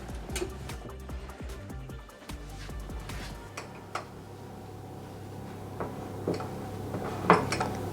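A flan set in a water bath dish goes into the oven: clinks and knocks of a dish and oven rack, a metallic slide and a sharp clack near the end, with low background hum and no talk.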